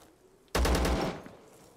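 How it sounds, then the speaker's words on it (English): Gunfire from the 2D shooter video game Zero Sievert: a sudden loud burst of several rapid automatic shots, about five in quick succession, breaking a quiet background and then fading out. "Gunshots!"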